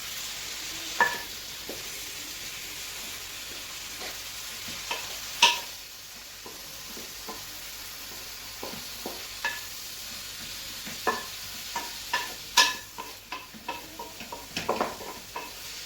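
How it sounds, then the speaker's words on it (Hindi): A spoon stirs spiced okra masala seasoned with salt and chili in a pan, scraping and knocking in scattered close taps over a soft, continuous sizzle. The stirring quickens toward the end. "सारी चीज़ों को आपने मिला के अच्छी तरह से बिल्कुल एक दफ़ा से मिक्स कर लेना है"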